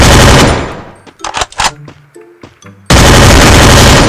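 Loud bursts of automatic gunfire in the Free Fire battle royale game, a heavy fusillade at the start, a few scattered shots and clicks in the middle, then another sustained loud volley.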